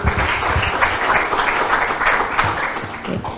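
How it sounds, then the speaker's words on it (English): A debate audience in a hall applauds steadily, a dense wash of many hands clapping at moderate volume throughout, with no talk over it. "Ladies and gentlemen, please give them a big round of applause."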